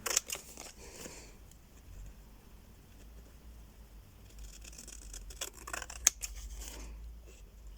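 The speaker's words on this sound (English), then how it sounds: "what I want to do with these is then cut" Scissors cutting card stock into a playing card, with quiet snips and crisp close cuts in irregular bursts over low background hum.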